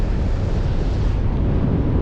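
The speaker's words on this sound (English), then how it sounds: "It's just so windy." Strong wind buffets the microphone in a continuous, loud, low roar with no pauses and no voices.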